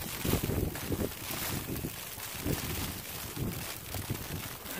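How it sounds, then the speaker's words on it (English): Strong wind during a Toronto snowstorm buffets the microphone in heavy, uneven gusts, a loud roaring rumble that swells and drops every second or so, with no talk. "The wind."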